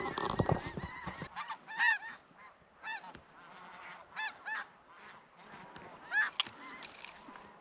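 Snow geese honk from flocks flying over a field during a duck and goose hunt, a loose chorus of nasal calls rising and falling in bursts, some closer and louder, others fainter and farther off.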